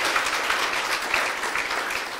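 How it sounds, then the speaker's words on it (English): Audience applause during a political talk by Max Blumenthal on the 51-day Gaza war: a thick, even patter of many hands clapping together, sustained and fairly loud with no voices over it. "you can clap."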